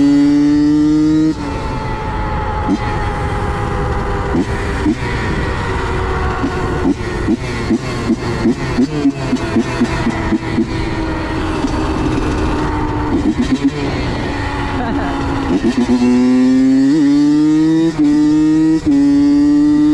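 Honda CR85 two-stroke dirt bike ridden hard, its close engine screaming and rising in pitch through repeated revs and gear changes, loud and continuous.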